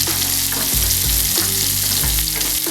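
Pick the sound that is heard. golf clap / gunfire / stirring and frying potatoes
stirring and frying potatoes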